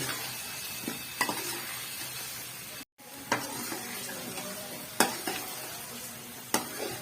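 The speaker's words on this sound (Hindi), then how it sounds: "अब इसको हम करेंगे भुनाई, और खुले बर्तन में पकाइएगा" Fish sizzling and frying in an open pan, a steady crackle broken by a few sharp clinks and stirring knocks, with a brief silent gap partway through.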